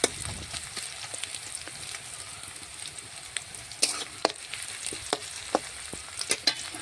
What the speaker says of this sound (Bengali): পেঁয়াজটা একটু নাড়াচাড়া করে লাল লাল আমি ভেজে নেব